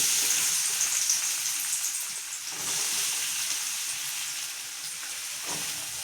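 Chopped onions and curry leaves sauté in hot oil for an egg puff filling, giving a steady, bright sizzle and hiss. Faint stirring runs through it, and nobody speaks.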